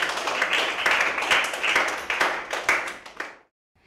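A class of Year 6 pupils clapping together in a classroom, a short burst of loosely rhythmic claps that thins out and stops after a few seconds.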